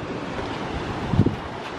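Waves wash steadily onto a beach on Gran Canaria, a continuous roar of surf mixed with heavy wind buffeting the microphone, with a slightly louder surge midway and no talking.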